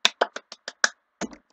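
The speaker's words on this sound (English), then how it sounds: "I have to clap for myself because I don't know how to insert sound effects." A single person claps their own hands in celebration, about seven sharp, fairly close claps in an uneven rhythm, the last two coming quickly together, then silence.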